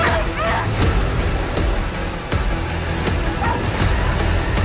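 A dog in the horror film Good Boy barks and whimpers amid a dense, loud film soundtrack of music and effects, with short yips and whines recurring throughout.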